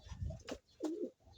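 Pigeons in a loft give two soft, low coos in quick succession, close by, with no other sounds.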